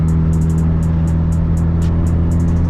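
A tuned E85 10th-generation Honda Civic Si pulls hard through a canyon road, its engine droning loud and close throughout with a steady rising note and repeated sharp ticking bursts on top.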